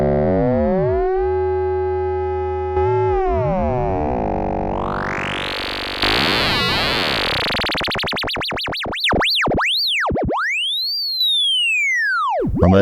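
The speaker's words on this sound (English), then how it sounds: "modulate VCO1 with VCO2" Moog Labyrinth synthesizer with VCO1 frequency-modulated by VCO2, producing buzzy tones that morph into a rising noisy sweep, then swooping sine-like chirps diving and climbing in pitch, loud and alone.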